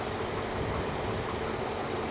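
A BMW engine idles steadily in its bay with a slight shake, a faint high squeak from a pulley riding over the continuous low running drone, close and alone.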